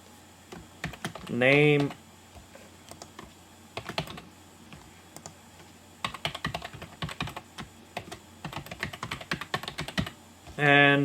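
Computer keyboard keys tapped in short bursts of quick clicks with pauses between, fairly close, while a person speaks briefly during the typing.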